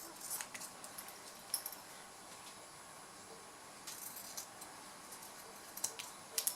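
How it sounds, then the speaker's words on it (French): Scissors snip through excess fabric beside a zip while sewing a zippered pouch, a few quiet, sharp cuts scattered over a faint room background. "je peux couper l'excédent de tissu de chaque côté de mon zip"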